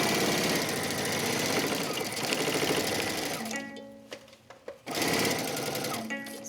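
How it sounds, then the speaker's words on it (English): Sewing machine stitching around the edge of a fabric tool roll, a steady close rapid whirring chatter that runs for several seconds, stops briefly, then starts again. "You're gonna sew all the way around there."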